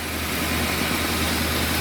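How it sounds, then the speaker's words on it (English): Rebuilt 403 Oldsmobile engine in a 1979 Park Ave idling on its carburetor, a steady, smooth, close drone with no talk over it. "But that CARB is running the engine."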